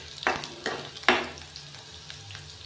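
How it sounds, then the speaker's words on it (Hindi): Garlic and green chili fry in a pan, heard as three or four short, close sizzling bursts as the pieces are stirred, fading to a quieter crackle between strokes. "अब हम इसमें लहसुन और हरी मिर्च डालेंगे। इसको गोल्डन ब्राउन होने तक भूनेंगे।"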